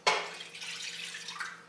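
Vegetable broth pours into a pan holding vegetables, a brief close liquid splash that starts sharply and then trickles off.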